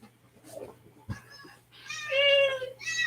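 A cat meows nearby after a few soft bumps and rustles, letting out a drawn-out, wavering meow followed by a shorter one, both loud and close.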